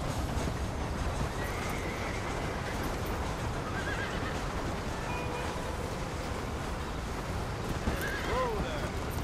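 Horse neighing and hooves on the move in the Western video game Red Dead Redemption, a whinny rising near the end over a steady bed of dense noise, with a voice urging the horse along.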